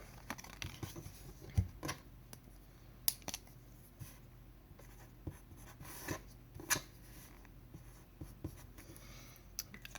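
Pen writing a signature on a playing card, quiet close scratching strokes in short irregular bursts with small taps and pauses.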